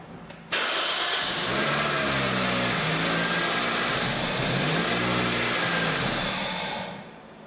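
A car engine cranks and catches at about half a second, then runs steadily at idle with a loud, even mid-pitched hum until fading near the end, during ECM driver diagnosis work.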